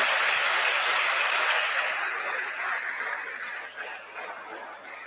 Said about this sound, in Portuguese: uma salva de palmas finais